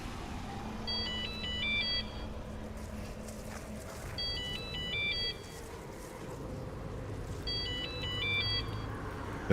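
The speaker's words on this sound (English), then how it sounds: "That is the phone." A phone ringtone repeats three times in a video game, each time a bright, warbling electronic trill, fairly faint over a low ambient hum and background drone.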